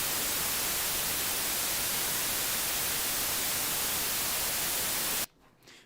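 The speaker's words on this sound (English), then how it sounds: "And now we have white noise." White noise generated in music software hisses loud and constant across the whole range, then cuts off abruptly near the end, leaving only a faint residual hum.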